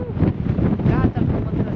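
Wind buffeting a microphone on a mountain hike up Begunjščica, a loud, close, continuous rumbling gust with people talking under it.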